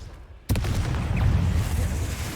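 Confringo blast spell in a fantasy video game: after a quiet moment, a sudden loud boom with a deep rumbling tail that lingers and slowly fades.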